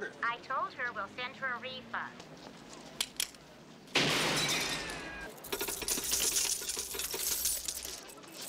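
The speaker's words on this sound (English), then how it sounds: "Sergeant Tackleberry helps a little old lady retrieve her quarter from a payphone by shooting it with a gun" In a movie scene, a gunshot blasts into a payphone and coins spill and clatter out, a sudden loud crack followed by a spread of jingling metallic rattles, with speech before and during the scene.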